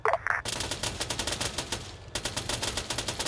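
Rapid automatic gunfire rattles in repeated bursts after a brief gap, loud and close, with a short pause and then more sustained firing in a military battle setting.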